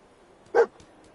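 Dogmeat, the dog in Fallout 4, lets out a single short bark, clear and close against a quiet background.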